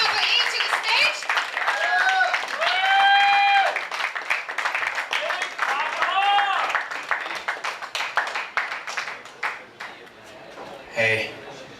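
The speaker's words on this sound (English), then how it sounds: "Keep your applause going." Audience at a live music show keeps up its applause, a broad wash of clapping mixed with cheers, with voices talking over it and a few sharp pings near the end.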